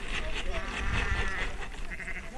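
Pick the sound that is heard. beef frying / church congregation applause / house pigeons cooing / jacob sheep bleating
jacob sheep bleating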